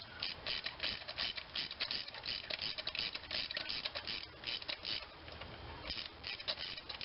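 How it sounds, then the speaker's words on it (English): A 3/8 inch ratchet clicks rapidly and steadily, close up, as it loosens a spark plug on a 2.4L Hyundai Sonata, with the pawl ticking continuously and no talk. "Get it on the plug and give it a little bit of torque."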